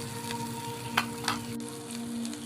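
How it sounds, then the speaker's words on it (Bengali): Pennywort leaves frying in a pan while being stirred, with a soft, quiet sizzle and two brief scraping knocks from the spatula over a low steady hum. "আবারও একটু নেড়ে চেড়ে নিচ্ছি"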